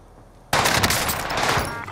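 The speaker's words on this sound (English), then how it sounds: "I'm under fire!" Gunfire in the Call of Duty video game: a sudden loud burst of rapid automatic shots that starts after a brief quiet lead-in and continues densely to the end, with no talk.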